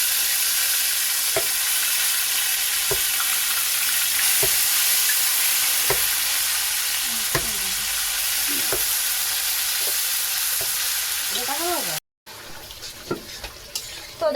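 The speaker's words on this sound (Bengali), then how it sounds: "এই কড়াইতেও মশলা কষানো হচ্ছে" Spices frying in a wok make a constant loud sizzle, punctuated by regular clicks and scrapes of a spoon stirring. After a brief dropout near the end, quieter clattering follows.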